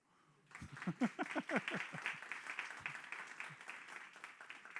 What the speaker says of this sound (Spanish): Gracias por aplaudirme